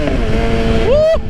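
Suzuki GSX-R 750 motorcycle being ridden, a close, steady engine drone whose pitch climbs sharply near the end, heard over constant road and wind rumble.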